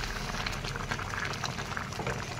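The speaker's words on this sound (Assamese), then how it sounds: "এইফালে পানী উতলি আছে" Water simmers in a cooking pot for an Assamese dal and banana-stem dish, giving off a soft, continuous bubbling at low volume with no talk.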